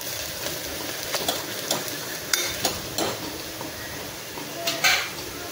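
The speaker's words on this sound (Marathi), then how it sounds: "व्यवस्थित तेलामध्ये परतून घ्यायचे आहेत मसाले." Whole spices stirred and sautéed in hot oil in a pan for masala khichdi, with a steady soft sizzle under repeated scraping and stirring strokes, close and moderately loud.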